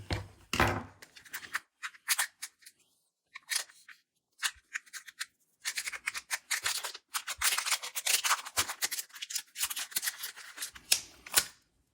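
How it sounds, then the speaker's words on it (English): Scissors snip and crunch in short bursts at close range, cutting a silicone mold free of its plastic, with irregular pauses between cuts and quiet stretches of handling in between. "take some scissors and let's try to cut this thing out of the plastic"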